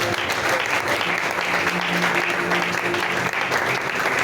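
A church congregation claps and cheers in praise during a thanksgiving and dedication service, a loud, dense, sustained wave of applause filling the room with no pause.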